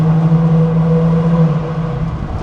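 A Chrysler Prowler's V6 engine revving while driving under a bridge, a loud, steady droning hum with a strong low tone that eases slightly toward the end, with no talk.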